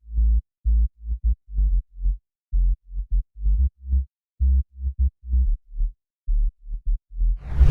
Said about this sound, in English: The sub is a simple sine wave with a heavier sidechain.